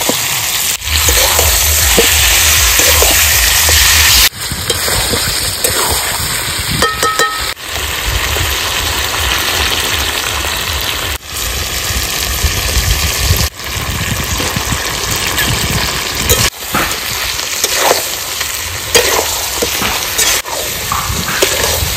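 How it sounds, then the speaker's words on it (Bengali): Country chicken curry with fried potato pieces sizzling loudly in a pan over a village fire, with stirring scrapes and clatter coming and going throughout; no talking. "এই যে বন্ধুরা সুন্দর কষিয়ে নিয়েছি আমি"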